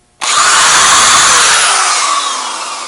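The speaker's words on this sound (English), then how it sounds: "it will be momentarily relatively loud when I turn on the drill." An electric drill switches on abruptly and runs loud and steady at close range, its whine holding for nearly three seconds with a slight drop in pitch.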